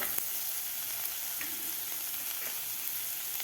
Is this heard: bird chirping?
no